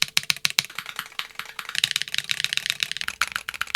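Rapid, sharp tapping keystrokes on a Backspace OASIS 75 Hall effect keyboard, a dense close-up burst of crisp clicks with short pauses, heard alone without talk.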